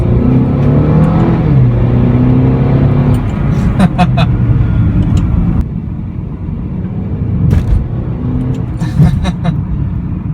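A 2014 Mercedes-Benz CLA250 accelerating on a road test, its engine rising in pitch through loud sustained revs with a gear change midway, heard from inside the car with someone talking over it.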